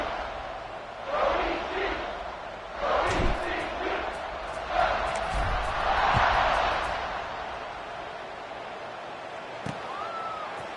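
Roar of a football stadium crowd swells in waves with scattered shouts and cheers, then fades back toward quieter murmur at the end.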